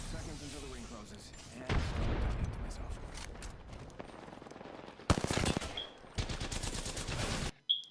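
Rapid gunfire in a battle royale shooter, aimed at a running decoy clone of a Mirage character, comes in loud automatic bursts with short gaps, mixed with game effects and faint talk under the shooting.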